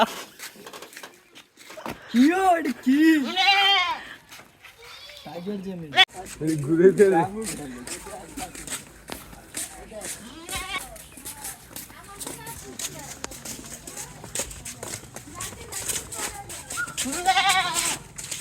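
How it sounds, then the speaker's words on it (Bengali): A castrated male goat at a livestock market bleats several times in loud, wavering calls, with people talking and market bustle around it. "এই যে ডাকছে রে, খাসির ডাক।"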